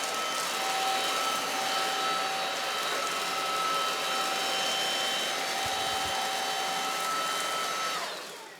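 A MooSoo K17U cordless vacuum cleaner runs in normal mode, giving a steady whirring drone with a high motor whine that holds evenly for several seconds, then begins winding down at the end.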